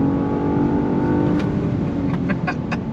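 A 2022 Genesis G80 luxury sport sedan in Sport Plus mode accelerates hard on throttle, its engine a loud sustained drone inside the cabin with a few quick shift blips near the end.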